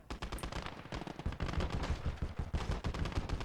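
Rapid gunfire in the World War II video game Call to Arms: Gates of Hell, a dense stream of sharp automatic and rifle shots cracking close, with no break.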